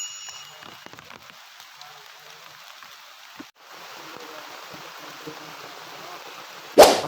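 Steady, soft rain patters on a forest camp with shelters, a dense even hiss throughout, a brief dip midway and a sudden loud knock or splash right at the end.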